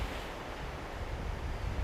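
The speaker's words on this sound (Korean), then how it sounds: "정말 이름처럼 남태평양의 푸른 파도가 절벽에 시원하게 부딪히고 있다" Blue South Pacific surf breaking against the cliffs at Bondi Beach, Sydney, heard as a steady, dense roar of crashing water mixed with wind, loud and continuous throughout with no voices.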